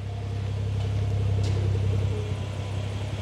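Deep, throaty exhaust rumble from a BMW M140i with a 3.5-inch exhaust and hybrid turbo idling close by, a steady low burble with a slight rise in revs midway.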